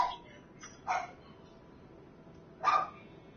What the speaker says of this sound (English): What they barking at?